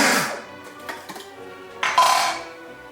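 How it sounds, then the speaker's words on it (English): Condensed milk, lemon juice, lime juice and egg yolks being mixed in a bowl, giving a few close, bright clinks and scrapes of a utensil against the dish, with a louder burst near the end. "I'm gonna mix this all together."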